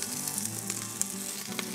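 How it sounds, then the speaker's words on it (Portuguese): Garlic frying in a little oil in a hot pan, a steady close sizzle with occasional small pops and crackles. "panela quente, fezinho de óleo. Começar grelhando aqui"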